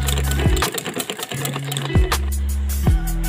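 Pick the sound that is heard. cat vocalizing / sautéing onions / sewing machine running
sewing machine running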